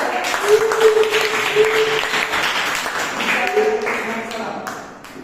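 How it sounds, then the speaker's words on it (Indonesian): Classroom applause for a student group after their presentation in a religious education class, a steady patter of clapping from many hands lasting several seconds, with voices talking over it. "kita berikan tepuk sekali lagi untuk kelompok 2"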